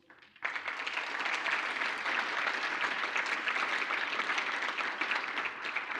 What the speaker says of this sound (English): A round of applause again before we close.